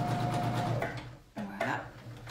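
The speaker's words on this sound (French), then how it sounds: "je vais coudre jusqu'ici" A sewing machine stitches the side seam of a wrap skirt in a short steady run that stops partway, with someone talking over it.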